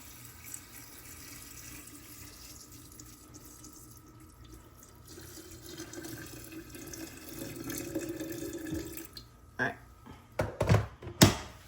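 Hot water pours into a glass jar in the kitchen, a soft rising gurgle that builds over several seconds, followed by a few sharp clinks and knocks of glass.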